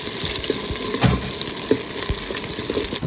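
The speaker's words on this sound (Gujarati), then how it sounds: "તો હવે નાખી દઈએ આપણે ડુંગળી." Onions hit hot oil in a home kitchen pan, giving a steady crackling sizzle with a few sharp bumps and scraping stirs.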